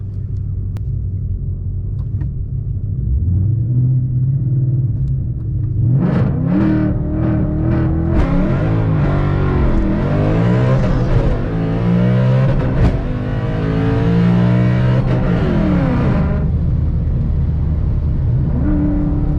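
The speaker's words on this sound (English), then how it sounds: "Try to do better burnout that time." A drag race car doing a burnout at a drag strip gives a loud, continuous engine roar that climbs and swells through revs before easing off, with no talking.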